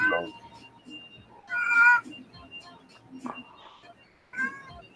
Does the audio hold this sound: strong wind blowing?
no